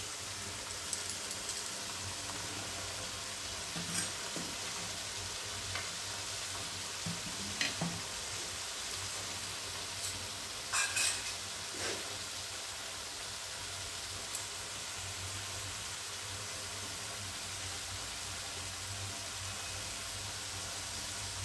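Tinda masala curry sizzling steadily in a pan after yogurt is added, a constant hiss of frying with occasional soft stirring clicks and pops, no voices.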